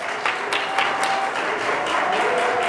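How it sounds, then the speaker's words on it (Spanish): A church congregation claps in a short, steady burst of applause, with a few sharper claps standing out from the continuous patter. "brindarle un fuerte y bonito aplauso para Cristo Jesús"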